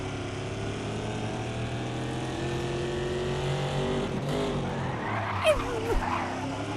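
An old muscle car engine in Race Driver: GRID rumbles at low revs and then climbs in pitch as it revs, with a brief tire squeal near the end. Someone talks over the engine.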